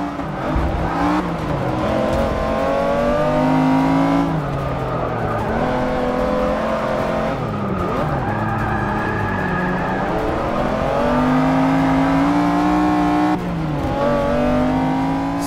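A race car in Forza Motorsport 6 drifts along a hilly Australian track, its engine roaring steadily and revving up and down while the tyres squeal and skid almost continuously, loud and close with no talk.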